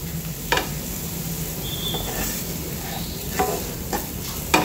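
Vegetable momo filling sizzles softly in a pan on a gas stove, a steady frying hiss with occasional light stirring scrapes and taps, close and without talk.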